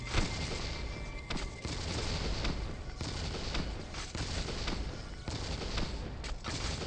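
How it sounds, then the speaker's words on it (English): A grenade launcher fires repeatedly during a final boss fight in The Suffering: Ties That Bind, a continuous dense wall of booming blasts and crackling gunfire with sharp recurring impacts, loud and unbroken throughout. "Ah, this is not a machine gun. It was a grenade launcher."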